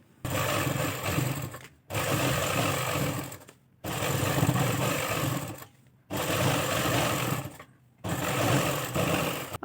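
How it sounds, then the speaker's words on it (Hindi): A sewing machine stitches along the top edge of a trouser hem, running in four long, steady bursts separated by short pauses, close and fairly loud with no talking. "यहाँ पे ऊपर वाली साइड किनारी पे सिलाई लगाएंगे।"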